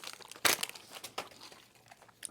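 A bag of Doritos crinkles close by in a few quick, papery bursts, the loudest near the start, with softer rustles trailing after.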